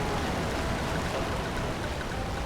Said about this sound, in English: I love how the sound for the waterfall just gets so loud when you're here